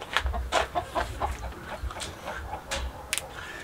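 Chickens cluck in short, uneven bursts close by, with a louder squawk near the end over a low background hum.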